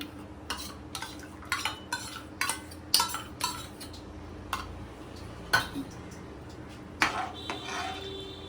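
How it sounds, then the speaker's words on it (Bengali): A spoon repeatedly clatters and scrapes against a pot while sour yogurt is stirred into a mutton biryani mixture, a quick irregular series of close, fairly quiet knocks. "টক দইটা দিয়েও ভালোভাবে নাড়িয়ে নিচ্ছি।"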